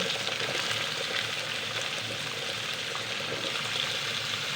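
Raw pumpkin pieces fry in a wok with a steady, dense sizzle that holds evenly throughout, close and fairly loud, with no one speaking.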